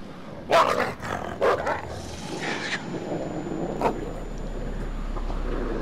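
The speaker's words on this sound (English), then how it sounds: "And the dog seems to know exactly where to go." A dog in the horror video game Until Dawn barks a few sharp times in quick succession, then once more after a pause, over a low rumbling game ambience.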